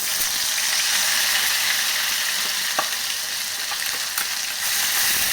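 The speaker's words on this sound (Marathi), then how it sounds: "थोडीशी जिरी मोहरी टाकते." Cumin and mustard seeds sizzle in hot oil for a drumstick rassa bhaji, giving a close, continuous frying hiss broken by sharp scattered pops and crackles as the seeds splutter.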